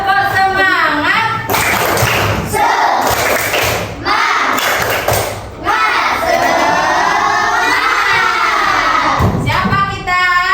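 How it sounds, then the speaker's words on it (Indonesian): A primary class of third graders does a rhythmic spirit clap together, with loud repeated claps mixed with children shouting and chanting in unison, filling the room throughout. "coba sekarang kita tepuk semangat bersama-sama"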